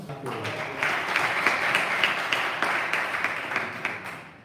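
At a school science and mathematics olympiad final, an audience gives a round of applause, a steady crackling patter of many hands that rises, holds and slowly thins, with voices faintly underneath.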